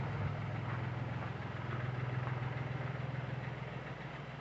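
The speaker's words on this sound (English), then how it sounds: "So I've got the tractor hooked onto that." A tractor engine idles steadily, a constant low throbbing hum with a faint rhythmic pulse that holds at an even level close by, with no talking.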